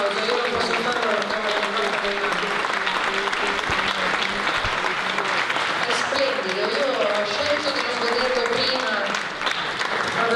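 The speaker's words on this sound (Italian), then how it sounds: "E ancora un applauso." Sustained audience applause at a film festival meeting in Bobbio, a dense steady wash of clapping lasting the whole stretch, with voices faintly mixed in underneath.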